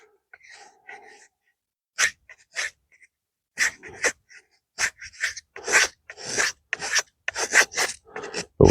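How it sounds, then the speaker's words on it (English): A Tramontina 12-inch machete scrapes fine shavings from damp wood outdoors, producing a close series of short, rasping strokes in an irregular rhythm, separated by quiet gaps. "we can definitely get some small, finer shavings in there."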